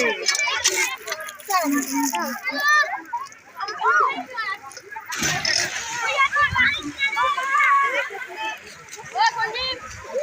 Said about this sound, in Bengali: এদিকে স্নান চলছে